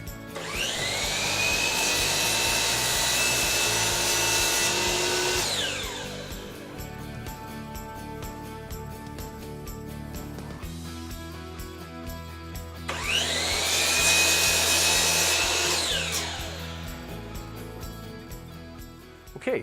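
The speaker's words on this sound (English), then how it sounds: "what I want to do is I need to cut the rails and stiles for the mirror frame" Power saw cutting wood rails and stiles for a mirror frame, two long loud whining cuts separated by a quieter stretch of motor idling and spin-down, close and without talk.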